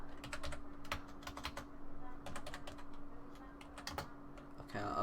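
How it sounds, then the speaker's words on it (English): Rapid bursts of keystrokes on a computer keyboard come in irregular clusters with short pauses, close and moderately quiet over a faint steady hum, with no talking. "apparently I don't know how to type, so just deal with that for a second"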